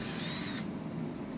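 A power drill bores screw holes into the top of a wooden gazebo post, a close, loud high-pitched whirring burst that cuts off after about half a second, leaving low background noise.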